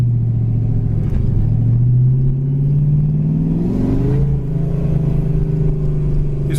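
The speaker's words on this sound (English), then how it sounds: "Rev it up a little bit." A 1985 Ford Mustang GT V8 engine revs up, its deep rumble climbing in pitch and then holding at a higher idle, loud and close, with no talking.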